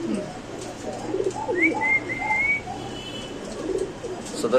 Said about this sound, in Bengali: এগুলো হচ্ছে আপনার গোল্লা কবুতর